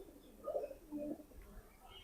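Soft, low pigeon cooing from a well-bred domestic pigeon, two short rounded coos close by and fairly faint over a quiet room background, with no talking.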